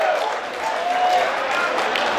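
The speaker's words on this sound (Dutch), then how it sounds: "Dames en heren, uw applaus voor deze sportvrouw en sportmannen." An audience at a local sports awards ceremony applauds the honored sportswoman and sportsmen. A dense, even wash of clapping holds steady at moderate loudness with no voice on top.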